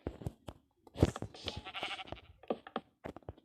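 Sheep bleating in a video game, a string of short, clipped calls that come and go over a few seconds at a modest level, with no talking over them.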